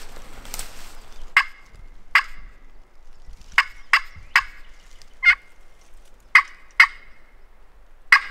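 A wild turkey gobbler on the roost on public land in Alabama gobbles again and again. About nine sharp, rattling gobbles carry from a distance across an otherwise quiet morning.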